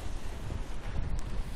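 Cold, gusty wind buffets the microphone outdoors, giving a steady, close, low roaring rush with no voices.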